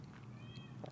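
A house cat meowing loudly at a door, a single faint, drawn-out cry over a low indoor hum.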